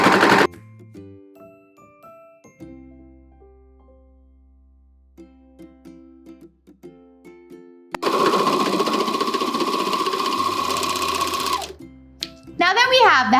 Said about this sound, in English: let's serge them together.